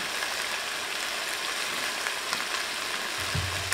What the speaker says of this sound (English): add our ribeye to a cast iron skillet